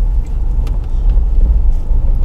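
A car eases slowly over a speed breaker, braking lightly and rolling up and down with no throttle, giving a steady low engine and tyre rumble from inside the cabin with no talking.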